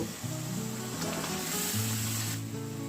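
Chicken meat sizzles steadily after hitting spices fried in a pan, for a chicken and cauliflower curry, with a continuous bright hiss and a low tonal hum running underneath, no speech.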